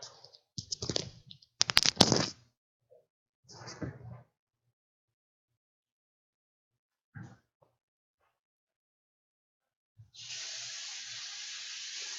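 A tap opens and water runs steadily from the faucet into a sink, a smooth hiss arriving after several clicks, knocks and brief voices.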